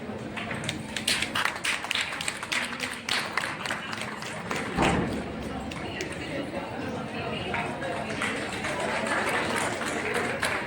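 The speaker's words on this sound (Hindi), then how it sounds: "तालियां तालियां तालियां।" An audience claps in a lively burst of dense, irregular applause, loud at first and then settling into a steadier patter, with a crowd chattering under it.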